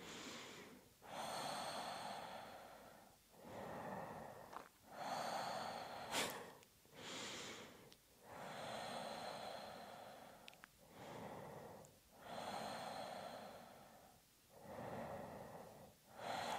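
Slow, deep nasal breathing during a yoga exercise that lifts the pelvic floor. About five to six long inhale and exhale cycles come close and clear, each separated by a short pause, with no talking.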